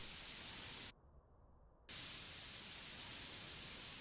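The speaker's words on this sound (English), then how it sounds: "Let's give it a quick spray here." A car being spray-painted in a video game gives a steady, loud hiss that stops for about a second and then carries on evenly, with no talking.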